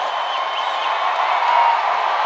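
A home crowd at a Hawai'i Rainbow Wahine women's volleyball match against Pepperdine roars and applauds in a dense, sustained wash of cheering from a packed arena, loud and unbroken throughout.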